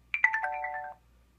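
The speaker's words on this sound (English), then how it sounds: "These are different messaging sounds that are new." Windows 10 Mobile messaging notification sound: a short, bright chime of a few quick tones settling into a held note, clean and alone.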